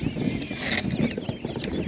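Small goslings for sale at an animal market give high, busy peeping calls, close and continuous over a dense murmur of market background.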